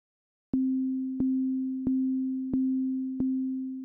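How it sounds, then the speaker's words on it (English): A pure, steady synthesized sine wave kick drum pulses with a sharp click on each beat, repeating evenly about six times in a four-on-the-floor rhythm. "for our last kick, we'll start from the init sine wave sound"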